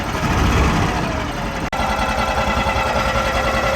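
A 1957 Heinkel Kabine's small four-stroke engine runs close and loud with a steady, rapid mechanical clatter, holding a busy buzzing rhythm with only a brief dip, no clear rise in pitch.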